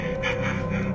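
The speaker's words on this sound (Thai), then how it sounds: "เสียงหายใจแม่เหรอ" A steady, muffled breath drawn in and out over a constant background drone, faint and filtered as if coming through a phone, in the horror game Evil Inside.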